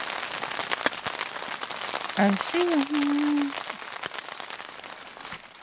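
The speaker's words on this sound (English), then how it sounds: "Starting to rain again, so just in time." Steady rain patters across the surface of a tent on a wilderness canoe trip along the Canada–USA border, a constant close hiss with brief voices and a short tonal whistle partway through.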